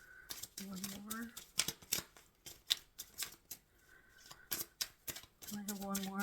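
Tarot cards are shuffled by hand in quick, rustling bursts of riffling and sliding, close and fairly quiet, with a voice murmuring in between.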